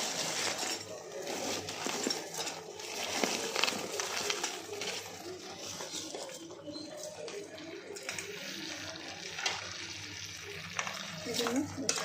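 Fried cauliflower is stirred into Gobi Manchurian sauce in a pan, producing a soft, steady sizzle with intermittent scraping and stirring clatter, close and moderately quiet, with faint bird calls in the background.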